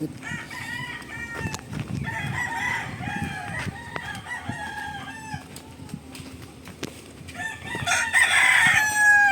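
Fighting gamecock roosters crow in several long, strained calls at a farm, one after another and near, with clucking and scattered knocks between crows.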